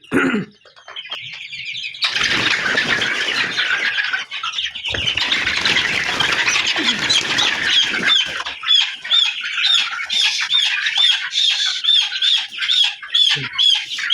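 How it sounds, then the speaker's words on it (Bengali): A chicken on a farm squawks loudly and frantically as it is caught, with wing flapping and rapid repeated cries continuing close up for several seconds. "একটা মুরগি ধরলাম তো এই মুরগিটা ওইটা কিন্তু হচ্ছে একটা ফিমেল মুরগি"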